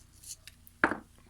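A single quick snip as the recoil starter string of a Stihl FS 94 trimmer is cut off, sharp and close after a few faint handling rustles.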